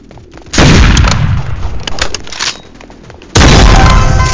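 Gunfire in the Roblox shooter Hypershot, two loud, dense bursts of shots, each lasting a few seconds, with scattered sharper cracks between them, close and harsh, with no talking.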